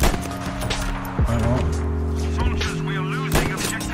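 Battlefield 5 Panzerstorm tank mode battle: a heavy booming shot from a tank cannon lands early, over a constant droning engine hum, with further distant bangs and crackles, while talk overlaps.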